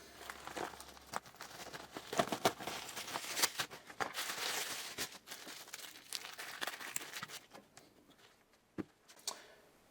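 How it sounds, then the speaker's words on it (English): A package of 90% silver coins is torn open nearby, crinkling and ripping plastic or paper wrapping in uneven bursts, with small ticks and clicks of handling and no speech. "I'm going to go ahead and rip into this"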